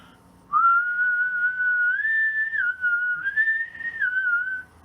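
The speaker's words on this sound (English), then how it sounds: "So to raise pitch when you whistle," A person whistles one sustained, close tone that rises in pitch, dips briefly, then climbs again, clear and alone for about four seconds.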